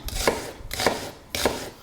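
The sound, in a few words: chopping onion finely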